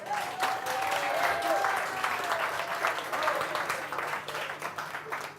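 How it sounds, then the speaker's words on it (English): Audience applause swells and ripples unevenly, moderately loud clapping from a room full of people with a few voices cheering and speaking beneath it. "Yeah, come on, round of applause."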